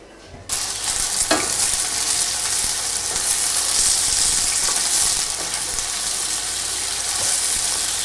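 Loud, steady sizzling and crackling of onion frying in hot oil in a pan, starting abruptly and continuing without pause, with occasional faint stirring scrapes.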